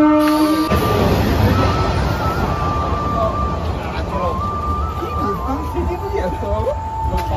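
A busy railway station just after a local train has pulled in: a steady crowd hubbub with people talking nearby and a few brief tonal sounds over the bustle.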